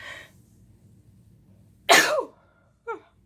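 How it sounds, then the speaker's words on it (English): A single person's sneeze bursts out sharply and loudly, with a faint breath before it and a short breathy catch after it, over a quiet indoor room. "Oh gosh, I gotta sneeze."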